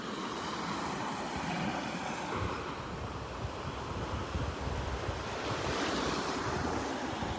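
Surf rolls and crashes steadily at Vanderbilt Beach in North Naples, Florida, with gusty wind roaring across the microphone and no voices.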